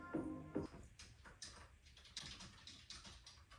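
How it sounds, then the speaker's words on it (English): Faint keyboard typing goes on in the background of a room, with soft, irregular clicks and small bursts of keystrokes at low volume and no clear talk over them. "If you hear clicking in the back, that's my girlfriend working"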